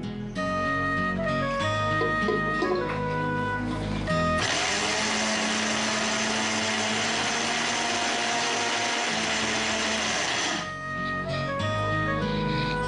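A kitchen mixer grinder whirs loudly as it grinds vada batter to a coarse semolina-like texture, a steady high roar running for about six seconds between quieter background stretches.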